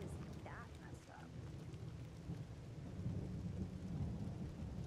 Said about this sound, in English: Oh, it's raining and shit.